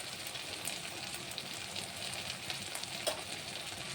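Kashmiri chilli powder and five-spice panch phoron frying in oil for a country chicken curry with peas, a faint, steady sizzle with soft crackles and no voices.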